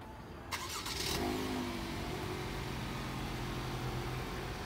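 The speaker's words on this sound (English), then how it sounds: "Here's the remote start." A 2017 GMC Acadia SLE-2 starting by remote start: a brief cranking burst, then the engine catches and settles into a steady, fairly quiet idle heard from nearby, with no talking.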